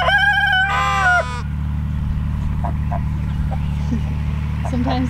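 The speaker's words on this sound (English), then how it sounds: "Sometimes the sheep like to run around and chase the chickens." Sheep bleat repeatedly and loudly in a farm enclosure shared with chickens and geese, a couple of close calls up front, then faint bird clucks and calls over a steady low hum.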